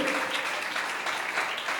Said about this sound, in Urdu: آئیے زوردار تالیاں روح القدس کی ان ساری نعمتوں کے لیے